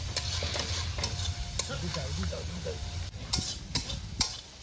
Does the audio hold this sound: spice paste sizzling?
yes